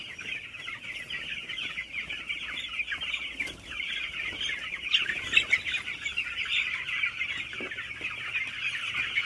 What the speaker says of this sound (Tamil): ஆக்சுவலாக இது பிராய்லர் கோழி